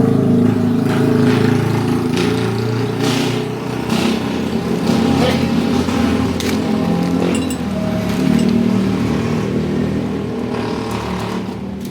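A motor engine runs continuously and loudly, with a steady low drone and scattered metallic clinks and rattles on top.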